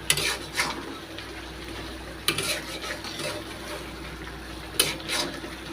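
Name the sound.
meat for biryani cooking and sizzling in pan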